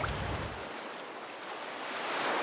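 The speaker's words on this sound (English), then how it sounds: "Oh, I'm gonna jump in the ocean." Ocean waves on a coast in Vietnam, a steady wash of surf noise filling the whole stretch, swelling slightly toward the end, with no voices present.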